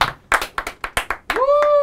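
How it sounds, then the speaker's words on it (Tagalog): Quick, close hand claps in an irregular burst of about eight strokes during a music jam session, followed by a ringing tonal note that lingers at the end. "Pumalakpak kayo!"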